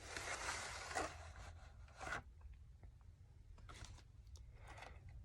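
A plastic VHS tape case is handled and opened, giving faint, close rubbing and scraping with a few soft clicks. There is no talking.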